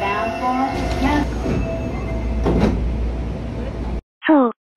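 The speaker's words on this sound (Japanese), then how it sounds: "大阪メトロのドアチャイムです。" Short electronic door-chime tones sound aboard Eizan Electric Railway car 712, a chime borrowed from Osaka Metro, over the rumble of the train interior, with a voice announcement, then a brief burst after a sudden cut.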